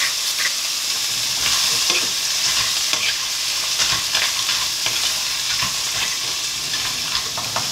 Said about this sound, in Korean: 1분 정도 볶아줄 거예요.